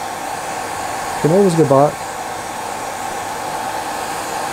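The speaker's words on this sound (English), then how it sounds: "Just get the hair dryer." A hair dryer blows on the wing of a Beauly Snow Fly temple dog salmon fly, a loud steady whooshing drone running throughout while someone speaks briefly over it.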